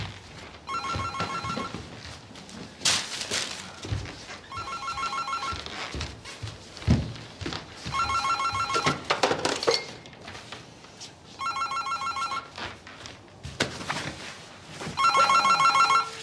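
An old-style telephone bell rings in five repeated bursts, each about a second and a half long and separated by short pauses. It sounds indoors at moderate loudness, with some clattering and household noise in between.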